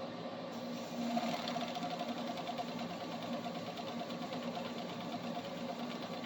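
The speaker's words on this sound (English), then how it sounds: "You always want to be face up when you're serging." A serger (overlock sewing machine) stitches fabric for a liner, running continuously with a fast, even mechanical whir and rapid needle chatter, close and steady throughout.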